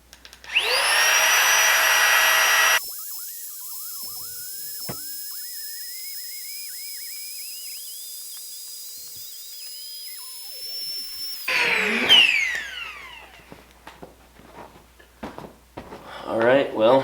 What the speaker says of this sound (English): we're going to time how long it takes for it to blow it up in the highest setting on the GIGA pump